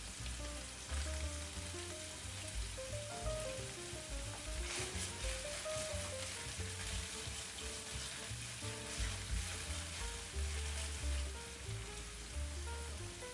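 Scallion and ginger sizzle in hot oil in a wok while cooking mapo tofu, a steady, close crackling fry with light stirring and faint tonal music underneath, no talking.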